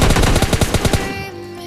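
A burst of about a dozen rapid machine gun shots rings out loud and close in the mobile battle royale game PUBG Mobile, then ends with a fading tail.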